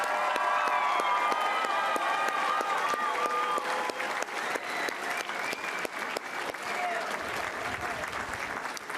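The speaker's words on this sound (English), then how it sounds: "Let's give you one last round of applause." A full room of graduation audience members at a spring commencement gives a sustained round of applause with some cheering, dense clapping continuing steadily for several seconds while a voice speaks faintly underneath.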